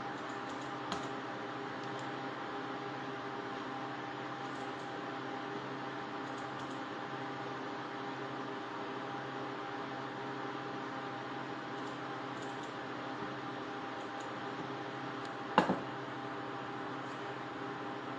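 Computer keys clicking at a steady, low level over a constant hum while someone searches for a song to play, with one brief louder knock near the end.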